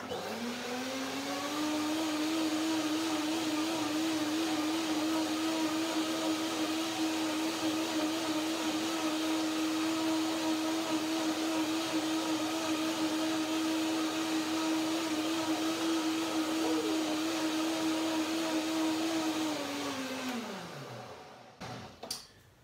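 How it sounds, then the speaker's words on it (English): A blender whirs steadily for about twenty seconds while blending cashew cream dressing, loud and constant with a slight pitch wobble, then winds down and stops, followed by a brief clatter. "I will do one more blender dance."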